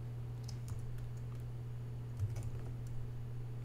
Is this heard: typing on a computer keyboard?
yes